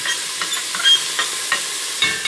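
Minced garlic frying in sesame seed oil for homemade Chinese rice, a steady close sizzle with small pops and spatters throughout.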